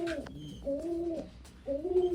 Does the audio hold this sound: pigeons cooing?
yes